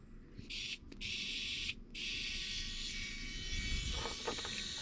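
A small high-speed rotary drill whines steadily while cutting a slot into a plastic servo horn for a Redcat MT18 RC truck, close and continuous with two brief pauses and a faint clicking near the end.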